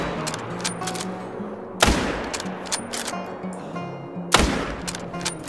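Two loud .308 rifle shots in the hunting video game theHunter: Call of the Wild, each a sharp blast with a short decaying tail, about two and a half seconds apart, with quieter game ambience between.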